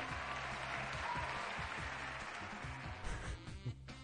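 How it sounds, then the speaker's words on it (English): Applause from a crowd at a family-edition game show taping, a dense steady wash of many hands clapping that holds for several seconds before tapering off with a few scattered claps. "She's clapping like..."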